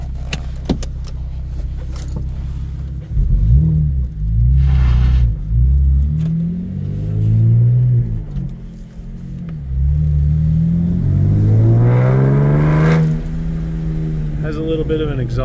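A 2013 Chevrolet Camaro LS with a 6-speed manual drives along, its engine and exhaust droning and rising through revs with shifts between, heard from inside the cabin under someone talking.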